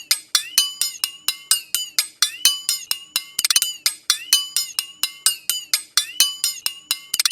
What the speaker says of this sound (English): So basically I took those sounds and warped them so that they're on beat a little bit more